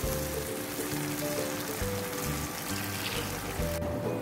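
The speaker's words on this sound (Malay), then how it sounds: "Sudah mendidih," Liquid bubbles and simmers steadily in a pot, a dense crackling, gurgling patter close by, with a faint low hum underneath.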